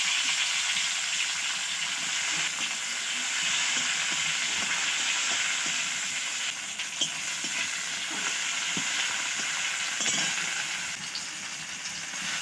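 Chopped tomato and nigella seeds fry in hot oil for a fish curry, giving a steady, close, continuous sizzle with faint stirring scrapes and no voices.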